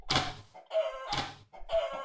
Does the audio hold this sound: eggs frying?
no